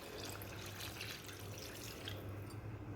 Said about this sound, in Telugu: ఇప్పుడు ఇందులో కూరకు సరిపడగా వాటర్ కూడా యాడ్ చేసేసుకుంటున్నానండి.